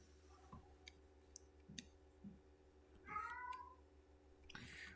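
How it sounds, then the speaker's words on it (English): A house cat meows faintly in the background, a few short calls scattered over a steady hum, with one brighter, longer call midway; no one speaks. "I apologize if you can hear the cat in the background."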